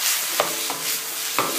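Onion pieces searing in a big frying pan, a steady loud sizzle that fills the sound with a few brief scraping stirs mixed in, close and continuous without talking.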